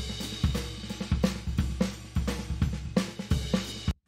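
Dry programmed drum track with no reverb, steady kick and snare hits in a regular pattern with cymbal wash above, close and loud, playing alone.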